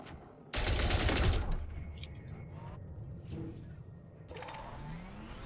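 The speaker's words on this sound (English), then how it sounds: "I'm gonna use my turret on this" A spaceship turret in Elite Dangerous opens fire in a loud rapid burst lasting about a second, followed by softer mechanical hum and a second shorter volley near the end.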